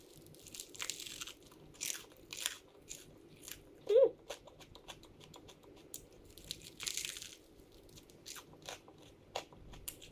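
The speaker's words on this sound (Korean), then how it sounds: "제가 먼저 먹어보도록 하겠습니다." Crunchy bites into a toasted two-slice sourdough sandwich with brie cheese and pesto, a few quiet crisp crackles and chewing sounds spread over several seconds, close to the mic with no talking.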